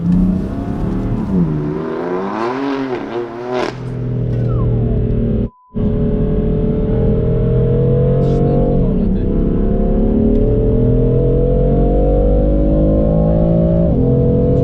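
A BMW M3 pulls out onto the Oulton Park race track, its engine revving and rising through the gears loud and close, with a brief cutout midway and in-car voices talking over it.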